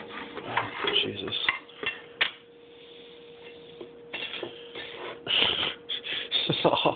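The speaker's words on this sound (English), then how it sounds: "So you butter the toast with that." A knife scrapes butter across toast one-handed in a home kitchen, rasping strokes coming in uneven bursts with a quiet pause in the middle and a faint steady hum underneath.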